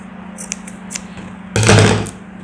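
Scissors snip through fabric being cut for a homemade hair bonnet with a bow, one loud close cut about half a second long after a stretch of faint small clicks over a steady low hum.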